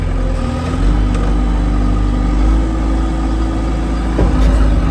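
A tractor loader's engine labours in second gear while reversing to scrape a floor with its bucket: a loud, close, steady diesel drone with a low rumbling hum and a slight surge near the end, with no talking.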